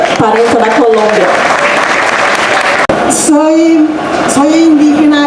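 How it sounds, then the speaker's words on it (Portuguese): Applause breaks out among a crowd at an Indigenous gathering in the Amazon, loud and continuous, with a voice speaking over the clapping throughout. "Uma salva de palmas para a nossa parenta da Colômbia."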